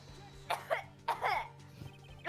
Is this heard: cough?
yes